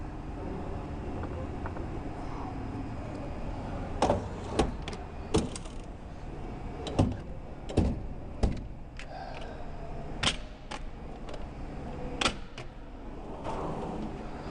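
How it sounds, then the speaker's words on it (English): Drawers of a 68-inch Snap-On Epiq tool chest being slid back into place, a series of sharp metallic clacks and thuds spaced a second or two apart over a quiet room hum. "All right, we can go ahead, we can get our drawers put back in."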